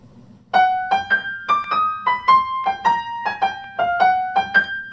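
Solo piano passage from Chopin's First Ballade, paired notes each played long then short, giving a steady lilting rhythm.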